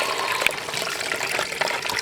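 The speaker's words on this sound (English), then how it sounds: "This is Caliente Agua Creek." Water flows steadily in Caliente Agua Creek along the Pacific Crest Trail, a broad, continuous rush and trickle heard up close with no talking.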